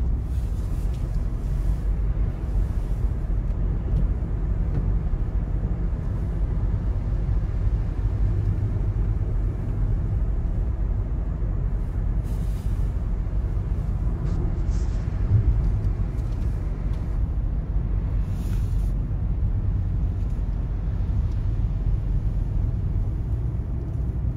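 A car drives along a road, giving a steady low road rumble and engine drone throughout with no talk.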